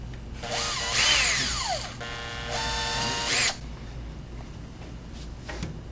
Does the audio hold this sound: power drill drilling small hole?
yes